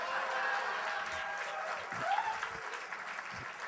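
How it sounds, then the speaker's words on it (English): Warm applause from an award-event audience honoring Alex, a steady wash of clapping through the whole stretch with a brief swell in the middle. "how about a big warm round of applause for Alex"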